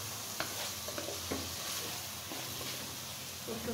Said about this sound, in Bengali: এখন আমি এটা খুব সুন্দর করে এই মশলার ভিতরে কষিয়ে নেব।